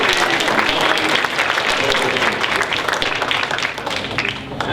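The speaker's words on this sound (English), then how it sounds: "I hear the students clapping over here." Students clapping at a community State of the Community presentation, steady dense applause filling the room throughout, loud and continuous with a faint crowd murmur underneath.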